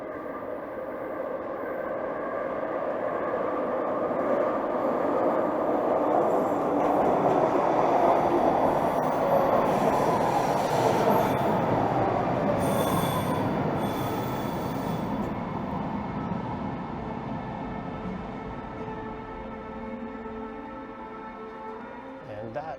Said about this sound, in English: So when the next train rolls in, I will resume filming